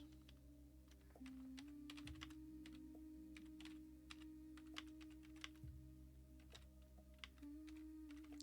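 Rapid keystrokes on a computer keyboard clatter in irregular bursts, close and clear, over a steady low electrical hum with no voices.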